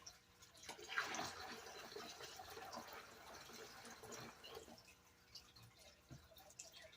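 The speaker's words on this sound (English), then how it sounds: "I would just pour this slowly down my sluice box too, just to catch whatever floaters that might be in there" Clay paydirt slurry from Indiana Creek is poured slowly down a sluice box while being shaken, giving a close, continuous wet splashing and trickling with soft gurgles and drips across the whole stretch.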